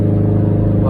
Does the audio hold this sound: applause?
no